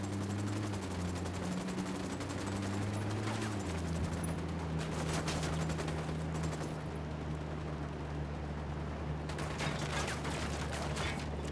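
Rapid gunfire bursts from the Ghost Recon Wildlands shooter crackle in two volleys over a constant low mechanical drone, loud and close, with no speech.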